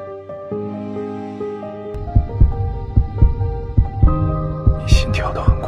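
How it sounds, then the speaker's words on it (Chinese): A fast heartbeat thumps at a steady quick pace, each beat a deep, close pulse, layered under a sustained tonal musical hum with a brief bright shimmer near the end. "你心跳得很快"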